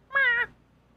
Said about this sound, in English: Oh, it's the cat, Skylar.